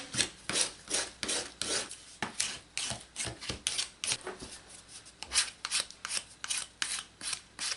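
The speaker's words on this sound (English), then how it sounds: "now we're gonna go ahead and use the emery board on this side" An emery board rasping back and forth across the edge of an MDF letter shape, a steady close rhythm of quick scratchy strokes, alone.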